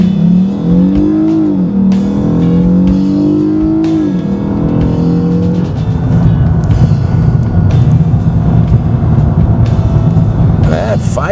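A Lexus car accelerates hard from 0 to 60 mph, its engine note climbing in pitch through gear changes before settling into a loud, steady drone. The engine is close and continuous, and a voice speaks over it.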